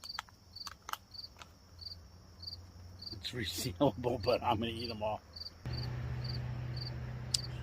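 Crickets chirp in a steady, evenly spaced pulse around a car parked for camping at night, with someone talking briefly in the middle and a low traffic hum joining partway through.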